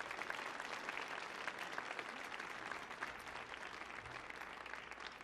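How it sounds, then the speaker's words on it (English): An audience at the Kennedy Center's Millennium Stage claps for a brass quintet concert: dense, steady applause from many hands, sustained and fairly even for several seconds with no talking. "Folks, give a round of applause for the Kennedy Center."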